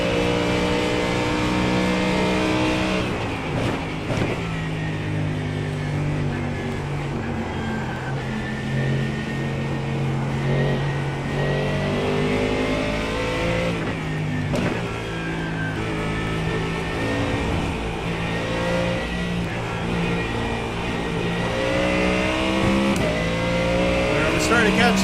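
A race car engine in the iRacing video game revs and shifts continuously, loud and close, with rising and falling pitch through gear changes, while someone talks over it throughout.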